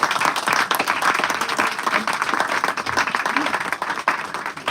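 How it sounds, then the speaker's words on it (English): A crowd claps steadily for several seconds, a dense broadband patter of applause with some voices mixed in. "Let's give him a round of applause."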